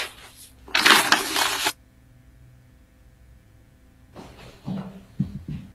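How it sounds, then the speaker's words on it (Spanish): Leaves rustle and crunch in a loud, close burst lasting about a second, followed by a near-silent stretch, then softer, uneven rustling and shuffling that could be footsteps through leaves near the end. "mira, escucha las hojas."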